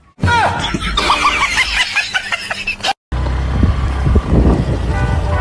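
A car speeding out of control with failed brakes in a Bhojpuri comedy skit, played as a loud sound effect of a revving motor, squealing tyres, honks and screams, breaking off for a moment and then rumbling back.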